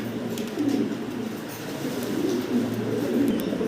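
Fancy pigeons at a pigeon farm coo in soft, low, repeated throaty phrases, several birds close by and overlapping in a continuous murmur, with no speech.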